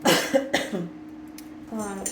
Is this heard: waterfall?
no